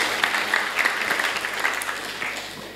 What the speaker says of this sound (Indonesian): kita berikan aplaus dulu untuk Mas Bayu